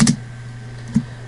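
Two brief keystrokes on a computer keyboard, one near the start and another about a second later, close and clear with a low steady hum underneath.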